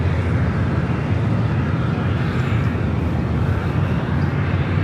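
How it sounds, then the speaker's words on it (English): An Aeromexico airliner in updated livery touches down on the south runway at LAX, a steady, loud broadband roar of jet engines and rushing air holding evenly throughout with no voices over it. "Aero Mexico in the updated livery, touching down here on the south"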